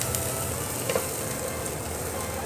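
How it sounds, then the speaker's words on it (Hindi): Boiled corn and vegetables frying in a pan, a steady, close sizzle with faint crackles and a couple of soft stirring scrapes, no voices. "थोड़ी देर इसको भूनेंगे इसके साथ"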